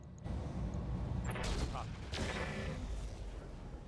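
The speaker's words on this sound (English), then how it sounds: "The Helios is obviously going to be shooting in flak mode at the Igor." Helios mech firing flak-mode shots at an Igor in RogueTech, heard as a few booming bursts over a steady rumbling game backdrop, with talk running underneath.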